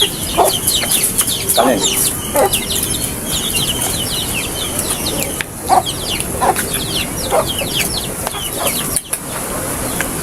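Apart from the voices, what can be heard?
chickens clucking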